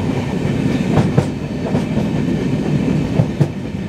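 A Vistadome glass-roofed coach train runs steadily on the Dooars line, with a continuous rumble and rhythmic clickety-clack of wheels over rail joints and no voices.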